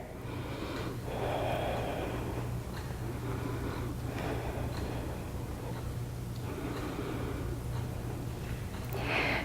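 Slow, deep breaths during a beginner yoga pose, soft inhales and exhales rising and falling over a low steady hum, close and quiet.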